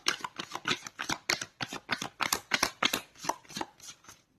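A deck of tarot-style cards being shuffled, a rapid run of crisp riffling snaps repeated about fifteen times over a few seconds, close and fairly loud with no talking.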